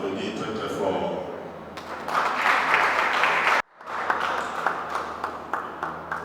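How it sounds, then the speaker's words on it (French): An audience at an award ceremony at the Yaoundé youth book and comics fair breaks into applause. Clapping swells and cuts off abruptly, then resumes with scattered sharper claps, while a voice talks over parts of it. "vous pouvez l'applaudir très très fort"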